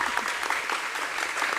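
An audience at a student debate applauds and cheers for a speaker being introduced for the proposition, dense steady clapping filling the room throughout.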